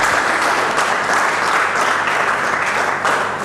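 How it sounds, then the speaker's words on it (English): An audience at a poetry show at the Maison Française in Legon claps to welcome a Swahili poet, giving loud, dense applause that holds steady throughout. "With applause, let's welcome Bwana."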